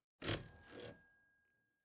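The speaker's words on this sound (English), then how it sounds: "Sybil closes the door to the tea room, the bells of its door strangely flat in the stale air of the nearly empty general store." A shop door's bells jingle once in a general store as the door closes. The chime is bright and fairly faint and stands alone, with a clear ringing tail that fades slowly.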